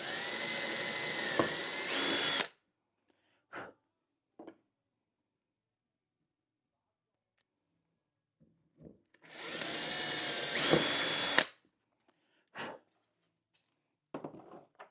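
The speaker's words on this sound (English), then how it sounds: "Just keep going around and drilling holes." A power drill bores holes through extruded aluminum and wood panels of a camp kitchen chuck box, two long loud whining bursts of about two seconds each, separated by quiet gaps with a few brief clicks and knocks.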